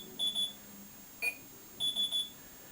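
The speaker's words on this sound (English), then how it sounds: "So that beep means the alarm is on." A Smiggle talking alarm clock gives short high-pitched electronic beeps: a pair, a single click-like blip, then a quick run of three, close but fairly quiet against a faint room hiss.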